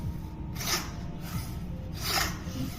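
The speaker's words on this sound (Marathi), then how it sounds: "हे जे चाकूला धार लावायची सेटअप आहे, जी मशीन आहे" A knife is drawn through the ceramic slots of a knife sharpener machine, giving two distinct gritty rasping strokes, close and clear, with quiet scraping between them.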